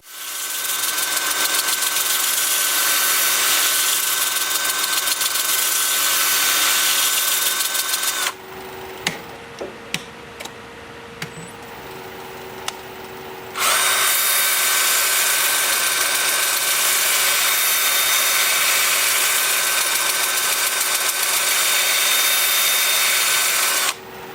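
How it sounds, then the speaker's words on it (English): A wood lathe spins a walnut piece at 400 RPM while an 80 grit two-inch disc sands it, a loud steady whine and hum that drops away briefly in the middle, then resumes just as strongly. "I have the lathe spinning at 400 RPM."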